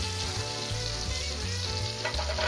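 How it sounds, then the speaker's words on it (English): Pearl onions fry in olive oil and butter in a pan, giving a steady, dense sizzle and crackle with soft stirring movements, close and continuous with no talking. "You put your olive oil and your butter in the pan. Make sure it's all sizzling, and then you take your pearl onions"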